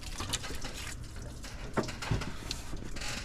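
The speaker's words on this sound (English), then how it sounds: "I was able to force water through this going forward" Water forced through the heater water distribution block of a Nissan Titan, a continuous gurgling, splashing flow with small spurts and drips, moderately loud and close.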